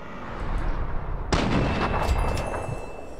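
A single loud gunshot in Fallout 3 cracks out partway through, with a dense rumbling, echoing tail that carries on beneath it and over steady game background noise.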